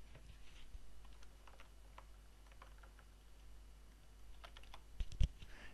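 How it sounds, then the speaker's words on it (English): Quiet, close keystrokes on a computer keyboard as text is typed in Photoshop, in irregular bursts with short pauses and a couple of louder key clacks near the end. "I'm going to type our text."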